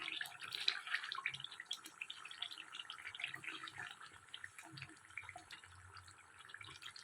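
Chicken coated in ginger paste fries in a pan over low heat, giving a steady soft crackle and watery hiss that runs throughout at moderate level with no talking.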